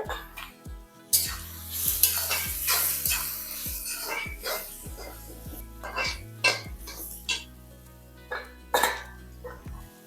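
Onions sautéing in a pan for Tamil-style prawn gravy with salt and turmeric, a light sizzle broken by repeated close scraping and stirring clatters of a spoon against the pan.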